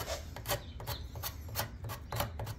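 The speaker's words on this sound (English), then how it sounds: "I'm gonna come in with a card scraper" A card scraper rubs across wood during repair of a child's rocking chair, making quiet rhythmic rasping strokes about twice a second over a low background hum, with no talking.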